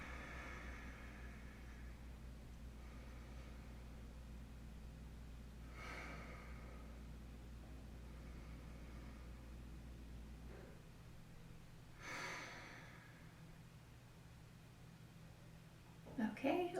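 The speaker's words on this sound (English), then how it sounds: "And take 3 deep breaths." Slow, deep breaths during a quiet yoga session, three soft inhale-exhale swells spaced several seconds apart over a low steady hum.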